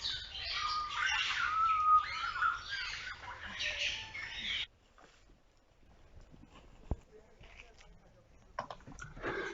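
Parrots squawk and chatter loudly and close by in an enclosure beside a path at a primate rehabilitation centre in Lwiro, South Kivu. The harsh calls fill the first half, then give way to quieter sounds with a few faint chirps.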